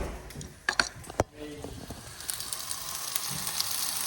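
A steak is laid into a hot pan: a few sharp clinks and a thud come first, then a hiss of sizzling swells and crackles continuously, heard nearby.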